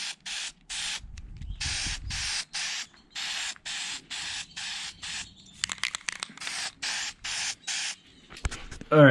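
Trim and bumper paint hisses from an aerosol can in a rapid series of short bursts, each about a quarter to half second, coating radiator fan brackets hung from a tree outdoors, with a brief rattle near the end.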